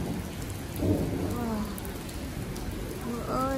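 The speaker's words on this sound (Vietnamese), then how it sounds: "Mưa ơi là mưa, lớn ơi là lớn à." A heavy downpour in Germany fills the scene with a steady, close hiss of rain, with a low thunder rumble beneath and a voice talking over it.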